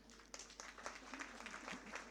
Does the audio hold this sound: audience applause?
yes